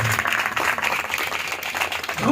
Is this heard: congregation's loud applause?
yes